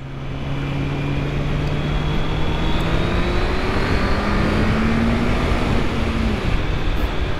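A QJ Motor SRK 800RR motorcycle, a 2025 model, accelerates on the road, its engine note climbing steadily in pitch as it pulls through the revs; loud, close and continuous, with wind noise and no talking.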